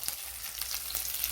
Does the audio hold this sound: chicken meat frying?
yes